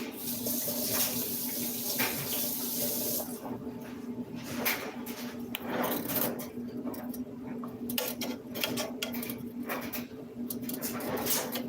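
Tap water runs into a kitchen sink as a spoon is rinsed, with a steady splashing stream, then clinks and knocks of the utensil against the sink, close and moderately quiet.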